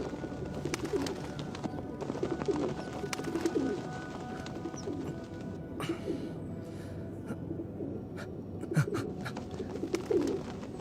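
Pigeons coo in soft, repeated low calls over a steady outdoor background, with a few brief sharper chirps and clicks scattered through; no speech.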